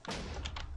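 A blocky video game explosion set off near a mob spawner, a single loud dull thump with a short rumbling tail, alone and up close.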